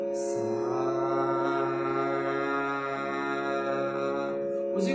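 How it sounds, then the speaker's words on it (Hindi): A steady sustained hum on the note Sa, held by one singer in vocal practice in the C# scale, with rich even harmonics and a brief breath-like onset, droning at near-constant loudness for the whole span. "उसी को हमिंग में हम कर रहे हैं"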